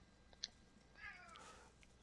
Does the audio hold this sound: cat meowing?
yes